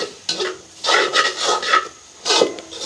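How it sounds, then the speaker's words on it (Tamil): A spoon scrapes and stirs through a fried mixture in a pan, with rhythmic bursts of rubbing and rasping separated by brief pauses, close and fairly loud, with no talking. "இப்போ நாங்கள் கலந்து விடுவோம்"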